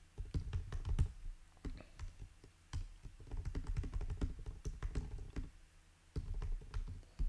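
Typing on a computer keyboard, a close, fast and uneven patter of key clicks in bursts with short pauses between them.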